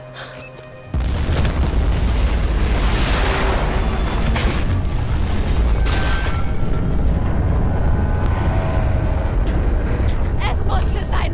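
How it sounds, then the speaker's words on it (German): A loud, sustained rumbling roar of a ship exploding in Battlefield 4 kicks in after a second and keeps going, with crackling debris and shouting voices mixed in. "Die Explosion bringt ihn um!"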